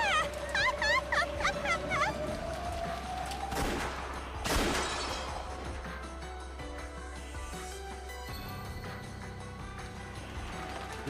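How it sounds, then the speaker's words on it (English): In the Umineko visual novel, a dark rose garden fills with a burst of rapid gunfire effects, following warbling synthetic cries and a rising tone, then settling into low sustained music and ambience. "The two yells and the sound of gunfire thundered across the dark rose garden."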